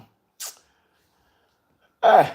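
A single loud sneeze bursts out near the end, preceded by a brief sharp intake of breath, otherwise quiet with no talking.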